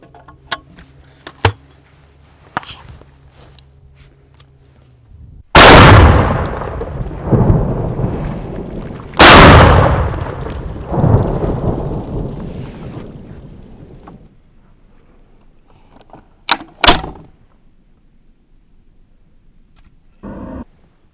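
Two loud shotgun blasts from a Beretta 686 over-under fired outdoors, each a sharp crack trailing into a long rolling echo, with quieter mechanical clicks of the action opening and ejecting spent shells before and after.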